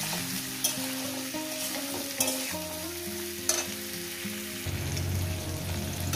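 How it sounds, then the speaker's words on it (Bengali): Small river fish (chuno mach) fry in a salted pan with a steady sizzle. Several sharp scrapes of stirring break in every second or so, and the sizzle grows fuller and denser near the end. "4-5 মিনিট ধরে ভাজবো"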